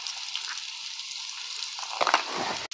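Masala paste with homemade red masala, turmeric and garam masala sizzles steadily in hot oil, a close, continuous frying hiss with brief scraping stirs near the end.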